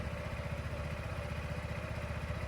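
A Yamaha Xmax 250 scooter engine idles steadily right after its first start following a long lay-up, a close, even mechanical putter with a fast regular pulse and no voices.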